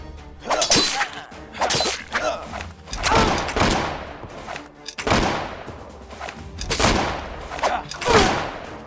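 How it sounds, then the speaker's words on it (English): Pistol shots ring out in the Caribbean Legend video game as a string of sharp, loud cracks at irregular intervals, each one trailing off briefly before the next. "the pistol shots. So annoying."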